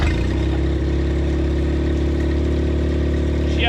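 An old outboard boat motor runs steadily on choke just after a carburetor install, a loud, even droning hum with a strong low rumble holding constant throughout.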